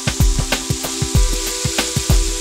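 Hunan ribs searing on a grill, a close, loud sizzle with a regular series of low thumps and clicks beating under a constant hum, no voices.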